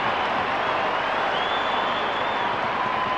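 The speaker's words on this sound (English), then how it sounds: "the Saints supporters also generous in their applause" St Kilda Saints supporters applaud at an Australian football match, a steady dense wash of distant crowd clapping and stadium noise that holds evenly throughout.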